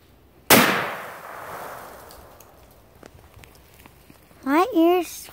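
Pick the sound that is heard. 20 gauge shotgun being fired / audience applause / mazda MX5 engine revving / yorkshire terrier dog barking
20 gauge shotgun being fired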